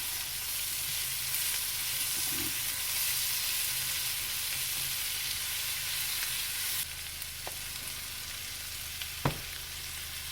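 Garlic sizzles steadily in a hot pan, a constant close frying hiss with a couple of faint clinks and taps, no talk.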